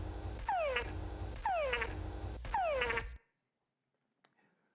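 Male frog mating call, repeated three times: each a descending whine followed by a quick cluster of chucks, loud and close, then silence with a faint click.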